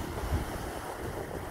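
Atlantic Ocean waves washing onto a South American beach, a soft continuous rush of surf mixed with wind buffeting the microphone, fairly faint and steady with no talk.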